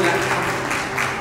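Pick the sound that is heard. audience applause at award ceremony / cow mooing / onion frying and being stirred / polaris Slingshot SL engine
audience applause at award ceremony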